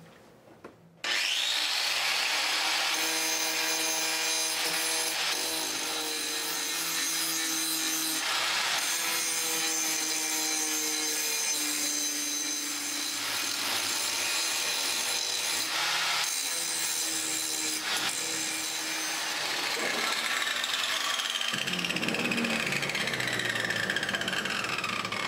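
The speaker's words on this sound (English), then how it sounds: "hit the ends with a grinder, and that way they'll be identical and smooth the edges all out" Angle grinder smoothing the ends of metal pieces clamped in a vise while building a homemade cultipacker: a loud, continuous, close grinding whine with shifting tones as the disc bites, running steadily for about twenty seconds before changing pitch near the end.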